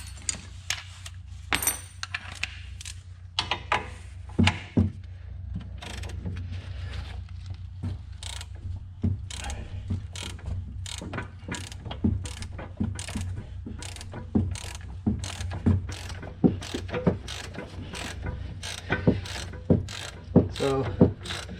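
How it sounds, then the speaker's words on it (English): Rapid ratchet clicking from working a ball joint loose on a 2007 Ford E-350 2WD van, steady repeated bursts of sharp metallic ticks over a low hum, close and fairly loud throughout. "Let me try a ratchet."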